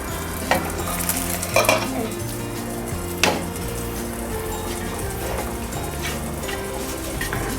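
Dough balls for Telangana sarvapindi boil in a pot over a medium flame, a steady close bubbling hiss broken by a few sharp knocks and clinks of the pot, with no talking.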